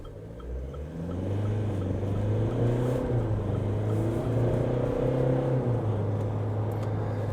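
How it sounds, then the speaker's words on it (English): 2024 Great Wall Cannon ute with a 2.4 litre diesel and 9-speed gearbox accelerating, a steady engine drone rising in pitch through several gear changes, heard from inside the cab. "So what's the Canon like under a little bit of acceleration?"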